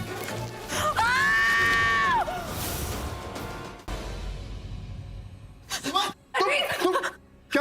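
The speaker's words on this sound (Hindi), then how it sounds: "तुम चिल्ला क्यों रही हो?" A woman screams in a Hindi TV drama scene, a long sustained wailing cry near the start followed by quieter ambience and later bursts of speech.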